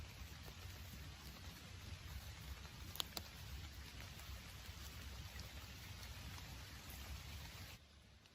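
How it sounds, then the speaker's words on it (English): Faint, steady rain patters in the background with a low rumble in New York wilderness, and a few sharp ticks and taps from drops hitting nearby surfaces. "I gotta pack up and try to get a shelter from this rain here"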